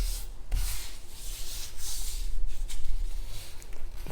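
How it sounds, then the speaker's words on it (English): Gold leaf is wiped with a soft rubbing motion to clear the excess from artwork, a close, continuous brushing and scuffing texture with small bursts and no speech. "wipe off the excess"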